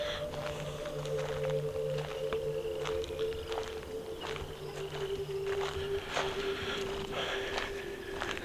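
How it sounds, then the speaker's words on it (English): Frogs croak around a classic car junkyard full of old Pontiacs and Corvette parts, a steady chorus of repeated calls layered over a constant low hum and distant outdoor ambience, with no talking. "I can hear the frogs."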